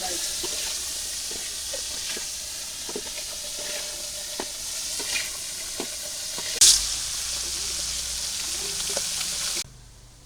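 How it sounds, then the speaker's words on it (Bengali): Potatoes fry in hot oil in a pan in a village kitchen, giving a steady, close hiss and crackle with a brief louder scrape near the end before the sizzle cuts off. "আলু ভাজা হয়ে গেছে"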